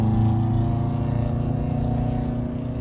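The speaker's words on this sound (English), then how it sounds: "Yes, that is a loud exhaust." A loud vehicle exhaust is heard from beside a Fisker Ocean One, as a steady, low, throbbing engine drone that holds a constant level for a few seconds with no talking.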